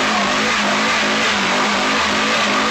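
A Nissan Sentra's 2-liter dual-overhead-cam SR20 engine revs hard toward 7,500 RPM in a loud, continuous, rising mechanical howl, close up and alone without talk.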